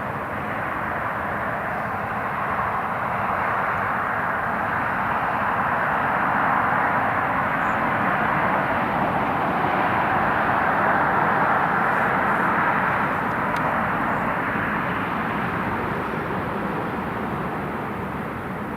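Italian Air Force C-27J turboprop engines at Newcastle International Airport make a steady broad roar that holds loud and unbroken, swelling slightly at its middle.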